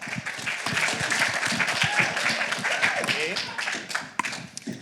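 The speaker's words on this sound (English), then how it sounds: "Give him a round of applause." An audience at a business event applauds the first pitcher, with scattered hand claps and a few woos rising over the crowd and some talk mixed in throughout.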